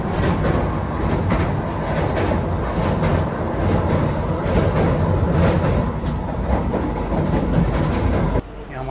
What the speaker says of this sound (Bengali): কটক স্টেশন ঢুকছে এই ট্রেনটা